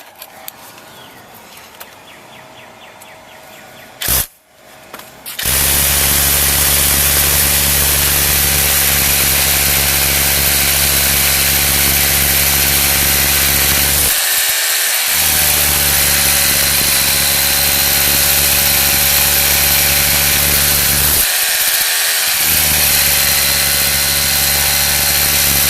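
Power drill boring holes for 3-inch anchors while replacing a fence atop a retaining wall, a loud steady motor whine running continuously with two brief pauses where the trigger is released.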